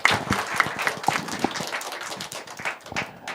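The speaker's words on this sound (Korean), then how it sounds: "우리 축하의 박수 드리도록 하겠습니다." Church congregation clapping in celebration during a Sunday worship service, a moderately loud burst of uneven, sparse hand claps with a few sharper individual claps standing out over the short stretch.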